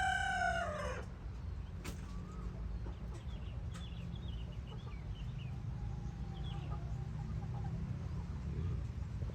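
Young roosters crow at close range: one loud crow at the very start, then steady farmyard ambience with faint scattered clucks and bird calls.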